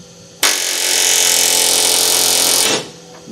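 A pneumatic rivet gun driving a rivet into sheet metal backed by an anvil during a boat transom install, giving one loud, sustained rattling burst of a little over two seconds, close up, with no talk over it.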